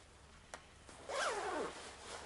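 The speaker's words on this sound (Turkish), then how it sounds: "İç tarafında bir tane fermuar var." A single zipper on a Dainese Streamline motorcycle jacket is drawn closed in one quick rising zip, close and clear, after a small click and a light rustle.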